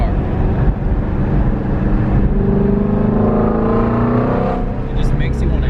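A loud Shelby GT350R Mustang stock exhaust rumbles and revs steadily, its pitch rising as the engine climbs, with a brief higher burst near the end.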